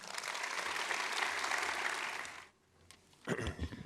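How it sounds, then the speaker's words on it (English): An audience claps briefly to welcome an Aboriginal dance company at a youth mental health conference opening, the applause dense and even before cutting off, then a short burst of noise and movement follows. "If you'd like to give them a round of applause."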